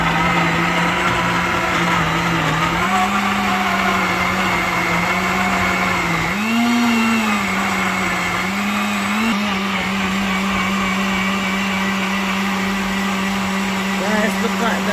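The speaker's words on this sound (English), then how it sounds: "I'm gonna switch my blender on and I am now ready for blending." A blender runs steadily and loudly throughout, whirring carrot and beetroot for a drink, its motor pitch dipping briefly as the load shifts, then holding a constant drone.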